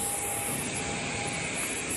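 Airliner cabin just after landing in Natal, Rio Grande do Norte: a steady, loud broadband engine roar with a faint sustained tone, continuous throughout with no talk.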